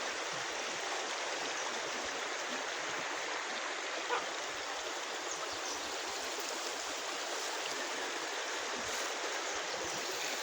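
A forest stream runs over ground ringed by large, undisturbed trees, making a steady, broad rushing wash at moderate loudness. It stays even and unbroken from start to finish, with no voices.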